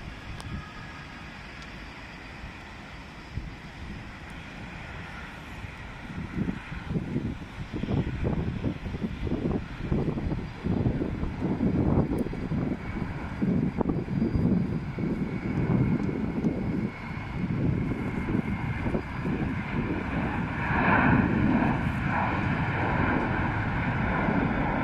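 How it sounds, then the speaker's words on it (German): A Eurowings Airbus A330 takes off at Düsseldorf Airport, its distant jet roar swelling and rumbling steadily over wind noise on the microphone, with no one talking. "da hinten startet eine 330 der Eurowings"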